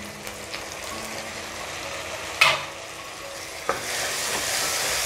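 Tomato sautéing with onion and ginger garlic paste in a pan, a steady hissing sizzle marked by two sharp clacks of a spatula against the pan, close and alone without speech.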